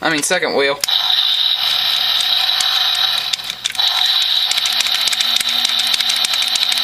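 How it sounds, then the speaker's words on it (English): A Universe Classics Onslaught toy makes a ratcheting sound effect as its second wheel is turned, a rapid clicking whir that runs continuously, heard close and loud after a brief opening burst. "he's got a sound effect of where you turn this second wheel"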